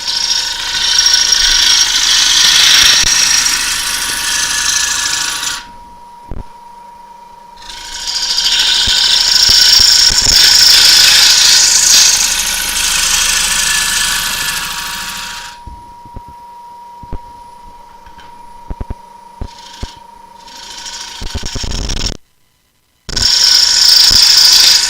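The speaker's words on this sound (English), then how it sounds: "the lathe is at 800 RPM" A wood lathe turns at 800 RPM, with a steady low hum under loud bursts of tool cutting against the spinning wood. Several seconds-long cuts alternate with quieter running stretches, with one brief silence near the end.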